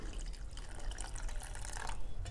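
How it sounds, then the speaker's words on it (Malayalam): Water pours steadily into semolina to soak it for ghee rava halwa, a close continuous trickling splash that lasts the whole short stretch without any voices. "ഇതൊന്ന് മുങ്ങി നിൽക്കുന്ന പാകത്തിന് വേണം നമ്മൾ വെള്ളം ചേർത്ത് കൊടുക്കാൻ വേണ്ടിയിട്ട്"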